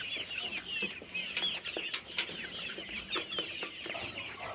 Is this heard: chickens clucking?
yes